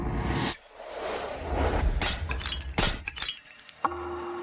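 Ceramic pieces smash and shatter in a loud, dense burst of breaking, followed by a second crash and scattered clinking fragments, then a brief ringing tone at the end.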